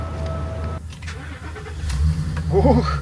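A rented Ford truck starts up and pulls away, its engine rumbling low and rising toward the end, with a brief exclamation from a person inside.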